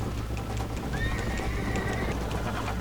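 Horse in the Red Dead Redemption video game neighing once with a rising whinny over faint galloping hoof clatter, fairly quiet and alone without talk.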